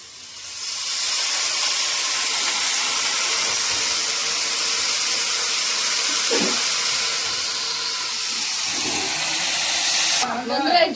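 Spinach greens hit hot mustard oil in a frying pan with fried onion and peas, setting off a loud, steady broadband sizzle that holds for about ten seconds before a stirring clatter near the end.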